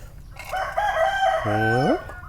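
A rooster crows once, close and loud, its call rising and then ending in a drawn-out wavering tone over faint background noise.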